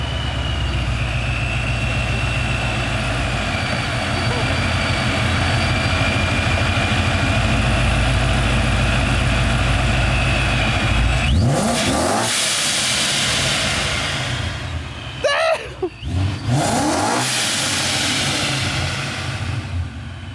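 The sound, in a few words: BMW 335i engine revving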